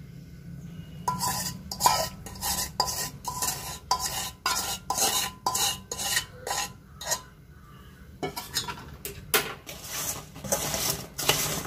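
Fried gorumitti dough pieces being stirred into sugar syrup in a pot, giving a steady run of close metallic scraping and clinking strokes in quick irregular rhythm, with a brief pause partway through; no voices.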